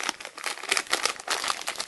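Crisp crinkling of paper wrappers, handled close by in a steady run of rustles and crackles, no voices.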